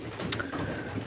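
Racing pigeons cooing in a loft, soft low throaty coos close by over a faint background hum, brief and without voices.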